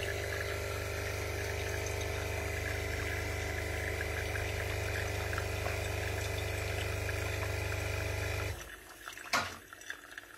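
Philips Senseo CSA250 coffee pod machine pumping water, a steady loud droning hum for about eight and a half seconds that then cuts off, followed by a couple of brief clicks and gurgles.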